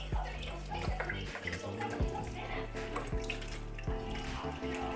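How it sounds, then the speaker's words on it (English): Water is poured from a container over dried purple sea moss in a bowl to soak it, making a continuous splashing, gurgling stream with small bubbly sloshes, close and fairly soft. "I'm gonna pour some more water over it"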